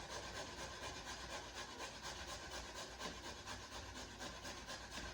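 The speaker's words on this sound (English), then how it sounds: "Now I'm going to grate this on the smallest one because I want this minced." A carrot scraped across the smallest holes of a box grater to mince it, a continuous close raspy rubbing with steady back-and-forth strokes, fairly quiet and with no talking.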